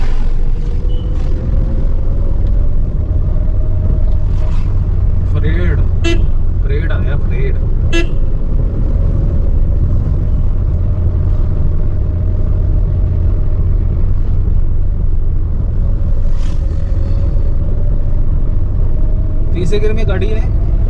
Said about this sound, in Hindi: चलो तीसरा गियर डाल लिया मैंने। अब गाड़ी थोड़ी स्मूथ चलेगी हमारी